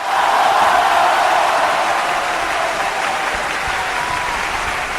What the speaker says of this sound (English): They're all cheering for the rumors